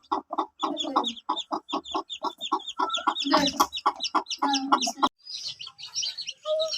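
Desi (native) chickens cluck in quick, repeated bursts at close range. The clucking is dense and rhythmic at first, then thins into softer, scattered calls.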